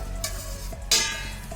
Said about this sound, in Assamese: ঢাকি ঢাকি আমলখিখিনি ভাজি আছোঁ